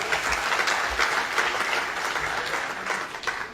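An audience applauds at the closing ceremony of a national dialogue on the political system, a dense, steady wash of many hands clapping that continues evenly throughout.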